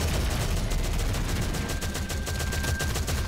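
Continuous automatic gunfire in the shooter game Shadowgun Legends, dense rapid bursts of shots aimed at a boss, loud and steady throughout with no pauses.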